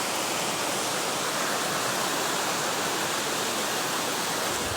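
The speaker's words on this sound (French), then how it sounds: "Là, je suis au bord de la rivière, tranquille" A riverbank in the countryside, with steady broadband rushing of flowing river water filling the whole stretch at an even, continuous level, close and fairly loud, with no voices.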